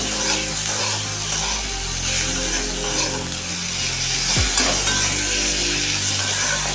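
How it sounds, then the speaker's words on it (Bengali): Onion and chopped tomato with salt being stirred as they fry in a pan for a mustard-poppy puti fish dish, a constant loud sizzle with scraping spatula strokes and a few clanks, no speech. "দেখুন, এবার আমি একটু নাড়াচাড়া করব"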